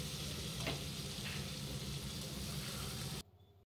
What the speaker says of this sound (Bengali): দেখো, এখানে পটলটা খানিকক্ষণ ভাজা হয়ে এসছে।